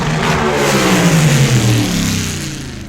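A dragster engine roars steadily at close range as it races down the drag strip toward the finish line, a loud, rough sustained howl that eases off slightly near the end.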